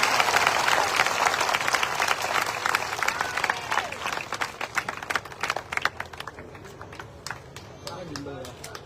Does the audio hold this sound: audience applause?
yes